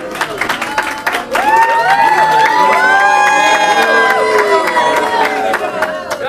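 A crowd at a school board meeting erupts in loud, sustained shouting and jeering, mixed voices rising together and holding steady for several seconds, close and full.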